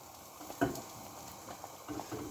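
Tadka tempering for chicken daal sizzles in hot oil: a faint, steady frying crackle with one brief louder burst near the start and a few soft spits later.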